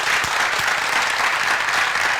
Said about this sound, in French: ensemble, nous allons applaudir s'il vous plaît pour l'association